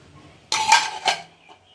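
Clanking of a metal pot as rice is set on to cook, with two potatoes added for boiling: a sharp clatter followed by a second clink, then quiet.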